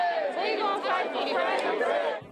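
A large crowd of protesters fills the streets of Baltimore, a dense murmur of many voices overlapping in steady chatter, close and continuous with no single voice standing out.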